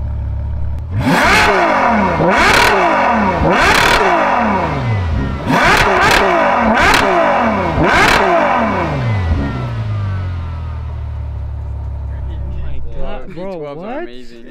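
A Ferrari V12 revs hard in a series of sharp, loud surges, each climbing and falling back, before the engine settles into a lower idle-like drone; voices chatter faintly near the end.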